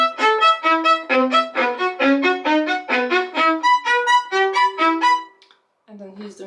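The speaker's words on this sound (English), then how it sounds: "you can practice Sevcik's Opus number 3, which is for martelet or off string" Violin martelé exercise from Sevcik Opus 3, played at the frog: a quick run of short, separated, accented bow strokes, each crisp and clearly detached, moving across notes and strings at a fairly loud, close level.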